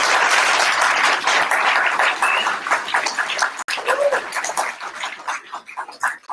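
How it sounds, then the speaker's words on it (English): Applause from a seated audience after a talk by Aubrey de Grey at Stanford, loud dense clapping that gradually thins and fades over several seconds. "let's give big round of applause to Aubrey"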